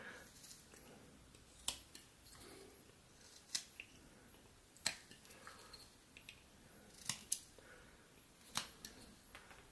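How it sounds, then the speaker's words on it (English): A whittling knife makes stop cuts into a wooden figure, a few sharp, crisp snicks spaced a second or two apart against a quiet background. "I'm going to kind of come up here and cut that stop cut, cut down"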